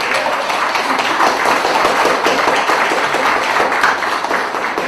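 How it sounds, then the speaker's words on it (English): A sustained, dense round of applause from an audience at a public gathering, steady and loud throughout, with many hands clapping together and no talking above it. "Give her a round of applause."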